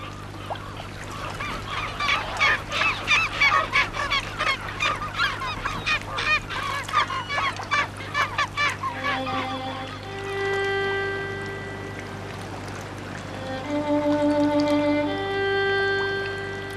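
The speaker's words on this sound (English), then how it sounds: "it's disturbed by gulls quarreling over the last leftovers" Gulls squabble over leftovers in Antarctica's Graham Land, their noisy, rapid calls clamoring together for several seconds, then fading into scattered higher cries over a steady low hum.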